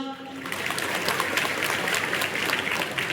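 Audience claps loudly and steadily at a Shiv Sena community event in Karjat-Khalapur honoring MLA Mahendra Thorve, a dense continuous patter of many hands that holds throughout.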